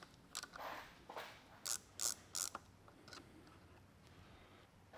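Short metallic clicks and ratcheting scrapes from a 4mm hex key loosening the rear shock collet bolt on a Yeti SB165 mountain bike, a cluster of sharp close ticks over quiet background.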